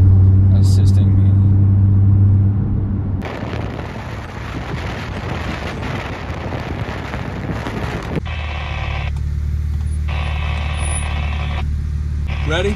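A tuned Infiniti Q60 with all-wheel drive and launch control roars loudly as it launches hard off the line in a drag race, a dense engine blast that drops away into steady rushing drive noise and wind.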